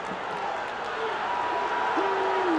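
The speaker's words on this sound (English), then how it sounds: "Crowd booing" A college football crowd at a 2007 Florida vs. Ole Miss game roars in a steady, dense wash of voices throughout, with a rising tonal call near the end, loud and continuous.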